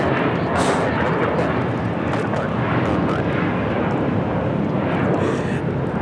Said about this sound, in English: This is American Airlines 2543 taking off to Dallas Fort Worth on an A321